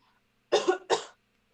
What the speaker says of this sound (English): That was a fully vaccinated cough.